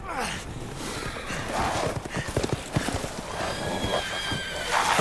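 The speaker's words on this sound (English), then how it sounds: "the werewolves can ride horses as well" Horses in the Resident Evil Village video game whinny loudly and clop along with quick hoofbeats in the middle, mixed with breathy snorts and game ambience.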